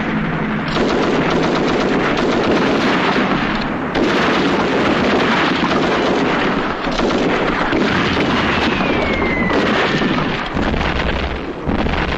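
A 1944 WWII British war film carries mortar fire and explosions, a loud, dense wall of blasts, rumbling booms and rattling gunfire that barely lets up, with no clear voices over it.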